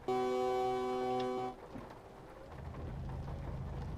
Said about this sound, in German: Ich hupe.